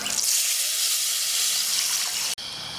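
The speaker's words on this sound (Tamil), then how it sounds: "இப்போ புளி தண்ணியை ஊற்றிக்கலாம்" Tamarind water poured into a pot of Sankara fish curry, giving a steady, close splashing pour with faint sizzling that cuts off abruptly near the end.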